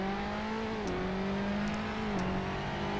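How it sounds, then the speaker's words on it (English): A race car in Assetto Corsa, its engine held at a steady, loud hum, with the pitch dipping briefly twice as the revs fall and climb again. "Rev the engine a bit."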